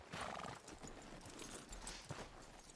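Horse hooves clop steadily in a western video game town outside a sheriff's office, with a horse whinnying near the start; busy, continuous layered game sound throughout.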